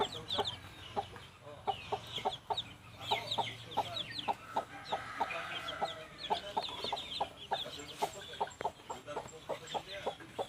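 Backyard Rhode Island Red chickens cluck close by in a quick, repeating rhythm of short calls, with soft scratching and a faint hum in the background.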